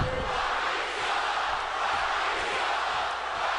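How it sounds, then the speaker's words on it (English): Wrestling arena crowd chants "Rocky sucks" in a dense, steady roar of many voices with no break across the clip. "crowd is actually chanting Rocky sucks"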